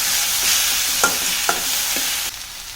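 Onion and tomato frying on a low flame make a continuous close sizzle, broken by a few soft stirring scrapes, with the hiss dropping slightly near the end; no voices.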